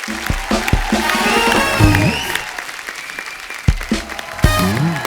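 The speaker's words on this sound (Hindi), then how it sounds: "एक बार रानी और सैफ अली खान के लिए जोरदार तालियां।" The studio audience of a Hindi TV comedy talk show applauds loudly, with bursts of clapping and cheering woven through music and brief voices.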